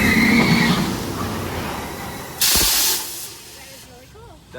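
Brakes on the Cheetah Hunt launch coaster track release a sudden loud burst of pneumatic hiss lasting about half a second, after a stretch of general park noise and distant voices.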